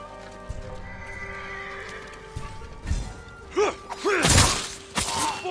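Horses whinny and snort loudly with clopping hooves and stamping, close by, over a low ambient soundtrack in the video game Ghost of Tsushima Director's Cut.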